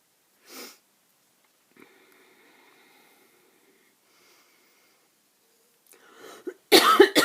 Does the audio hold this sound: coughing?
yes